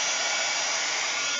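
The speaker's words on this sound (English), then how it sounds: "that dryer doesn't want to melt it down because it wants to blow it away" A hair dryer blows steadily on small pieces of beeswax, a loud, even whooshing rush of air that holds unchanged from start to finish.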